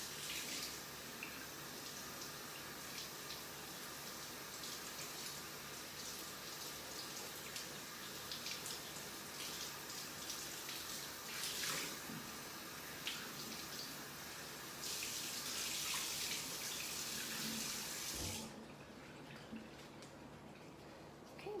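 Water runs steadily from a tap as a hand towel is soaked in hot water for an at-home facial, with a continuous close splashing wash that briefly grows louder before cutting off near the end.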